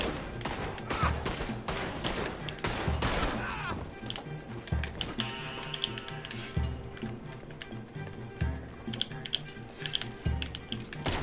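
Rapid bursts of video game gunfire, dense clattering volleys up front that thin into scattered, sharper single shots, all fairly close and loud.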